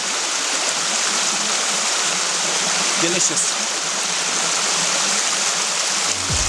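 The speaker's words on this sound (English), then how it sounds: "Pure, fresh, natural spring water." A natural spring-water stream flows steadily on a hillside trek at about 1,400 meters, a continuous broadband rush of running water close by, with a brief spoken word near the end.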